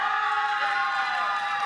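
A crowd cheers and whoops for a cosplay team at the Canadian World Cosplay Summit qualifying competition at Otakuthon 2017. The dense, steady roar of an indoor audience fills the whole moment.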